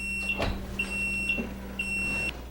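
An oven timer beeps three times in a row while baked apples finish, thin high-pitched tones over a steady kitchen hum, with a faint clatter between them.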